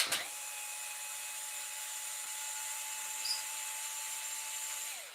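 A small Parkside electric screwdriver backs screws out of a machine, its motor whirring in a steady high whine for about five seconds after a sharp click at the start.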